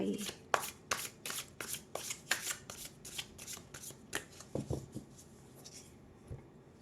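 Oracle cards are shuffled by hand in a quiet room, giving a rapid series of crisp riffling flicks in regular bursts that slow and thin out toward the end, close to the listener.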